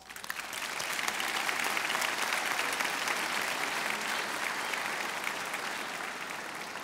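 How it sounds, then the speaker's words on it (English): Sustained audience applause at a college commencement ceremony, a dense, steady wash of many hands clapping that begins quickly and holds at an even level throughout, with no talk over it. "kindly recognize them with a round of applause"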